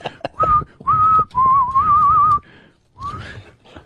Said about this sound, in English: He could whistle a tune.